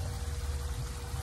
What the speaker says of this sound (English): the pump cycling the water and filtering the water